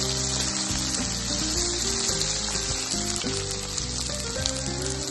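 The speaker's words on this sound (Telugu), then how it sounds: "మనం దంచుకున్న అల్లం పచ్చిమిర్చి వేసి వేయించుకోవాలి" Crushed ginger and green chillies fry with cumin seeds in hot oil, giving a loud, continuous sizzle that sits close and steady throughout, with no talking.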